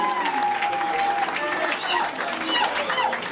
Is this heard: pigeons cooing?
no